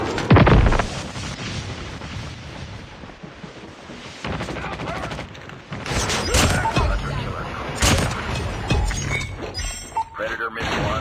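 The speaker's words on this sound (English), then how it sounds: "Friendly napalm deployed." Napalm airstrike in Call of Duty sets off a rough barrage of crackling, shattering blasts and booming thuds that stays loud and dense throughout, with heavy hits near the start and again around the middle and late stretches.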